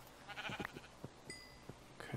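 A sheep in the Better Than Wolves Minecraft mod gives faint, brief bleats among soft clicks and footstep-like ticks, all at low volume.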